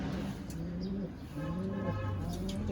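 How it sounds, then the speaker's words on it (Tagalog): Pigeons cooing at a racing pigeon loft, soft repeated low coos layered over each other close by, with faint background noise. "May sumama kasing isang ibon na isang kalapati."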